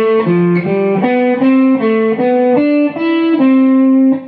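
An instrument with a distorted, effected tone plays an interval pattern that moves up and down in an even rhythm, about a dozen plucked notes stepping between pitches, loud and alone.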